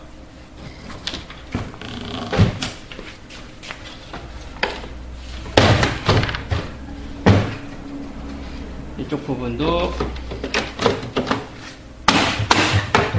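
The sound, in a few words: tapping HP8500 printer parts into place during reassembly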